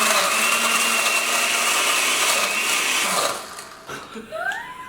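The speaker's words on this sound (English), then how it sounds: "Blenders make all the best food." A blender whirs loudly and steadily while mixing a protein smoothie, then cuts out after about three seconds, leaving a few faint clatters and a brief sliding whine.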